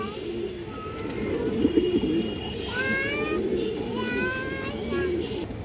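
Pigeons coo in a low, steady murmur, with a faint meow-like call and some higher chirps above, while someone talks over them throughout.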